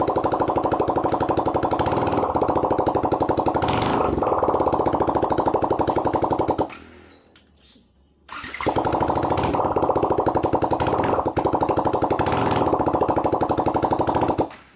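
A Yamaha WR155 motorcycle engine runs loud and steady during a gear-shifting test after crash damage, with a brief drop to near quiet midway before the engine note returns at full strength.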